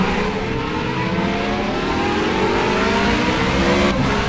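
Formula 1-style race car engine in the Project Cars racing game, revving loudly and continuously with rising, sweeping pitch as it accelerates, heard alone without talk.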